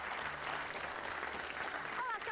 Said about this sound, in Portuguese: Vamos então receber com um grande aplauso a Cátia Antunes.